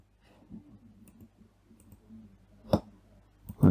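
Soft, irregular computer mouse clicks, a few light taps, then two sharper clicks near the end, close and quiet with no talk.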